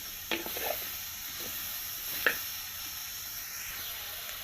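Spiced cucumber curry being stirred in a pan, a steady low sizzle with a couple of brief scraping stirs of the spoon, quiet and close.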